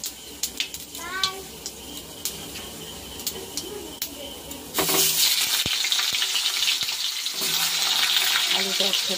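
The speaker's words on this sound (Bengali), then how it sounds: "এই যে তেল দিয়েছি কড়ার মধ্যে, এখন দিয়ে দেব হচ্ছে গোটা জিরে।" Whole cumin seeds drop into hot oil in a wok and burst into a loud, steady sizzle partway through, after a stretch of quiet clinks and kitchen handling; the hiss stays close and continuous to the end, with no talking.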